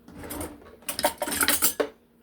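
A large metal spoon scooping homemade cassava flour into a bottle, a short run of clinks and scrapes against the container, brisk and close, with no talking over it.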